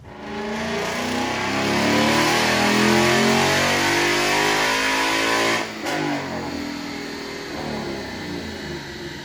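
A naturally aspirated 2016 Mustang GT, running hot on a dyno, revs in a long rising roar close up, then cuts back abruptly before settling into a steady lower drone.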